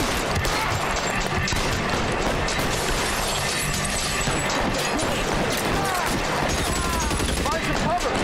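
A gun in L.A. Noire fires in dense, rapid bursts amid chaotic shootout noise, loud and sustained throughout, with voices talking over the gunfire.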